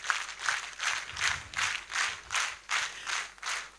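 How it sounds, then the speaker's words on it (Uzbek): A concert audience at a March 8 holiday show claps in steady unison, about nine rhythmic waves of applause at an even beat, moderately loud with no talking. "davomli qarsaklar bilan olqishlab qo'ysak"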